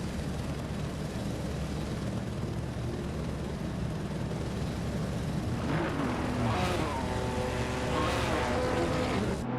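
Race car engines on the starting grid at Red Bull Ring fire up and rev, a low continuous rumble swelling into several rising, overlapping revs toward the end, moderately loud over background noise.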